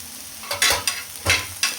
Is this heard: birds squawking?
no